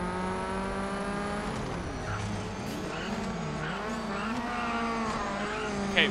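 A rally car with a bent engine runs steadily in Colin McRae: Dirt, its loud engine drone rising and falling with gear changes alongside tire noise, continuous throughout.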